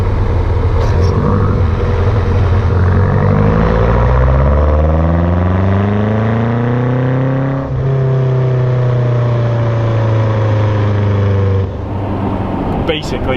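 A 2017 BMW M6 sports car in Sport Plus mode with manual gearbox, its engine revving loud and close as rising harmonic sweeps build through the gears, with brief drops at shifts.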